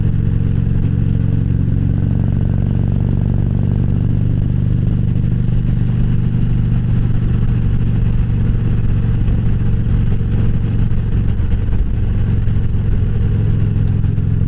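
Motorcycle riding along back roads with a steady engine drone and wind rumble, close and continuous throughout.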